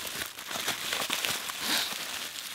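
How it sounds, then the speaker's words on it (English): Bubble wrap crinkles and rustles steadily as it is wrapped around bundled studio cables in a vocal booth, a close, continuous crackling texture with no talking. "So I'm going to wrap them up in some bubble wrap like this"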